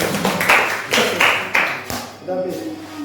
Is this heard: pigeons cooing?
no